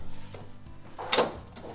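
A wooden drawer in a van conversion slides out with a short scraping rumble and a soft knock, quiet and close by.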